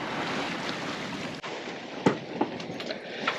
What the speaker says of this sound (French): comme on se prend la houle plein derrière